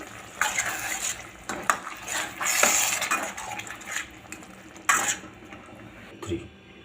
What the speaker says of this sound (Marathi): आपण यावर कोथिंबीर घालून घेऊ आणि थोडासा गरम मसाला आणि छान हलवून घेऊ